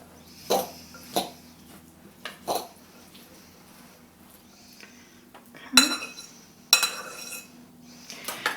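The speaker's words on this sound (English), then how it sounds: "I'm going to take my fork and just kind of get that corn up a little bit more." Fork clinking against a bowl while tossing a summer corn salad, a few sharp scattered taps and scrapes close by, with quiet gaps between them.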